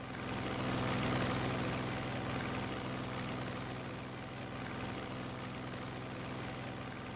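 Steady droning engine of a fighter plane in the WWII strategy game Strategic Mind: Blitzkrieg, set in the Battle of France, holding a continuous low rumble throughout with no talk.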